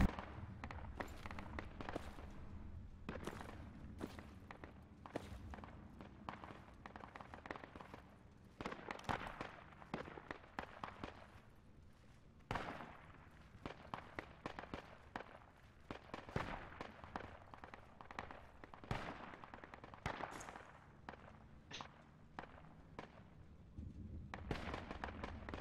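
Gunshots ring out in an online shooter video game, a faint, distant scatter of sharp cracks and pops in irregular bursts over a low background rumble.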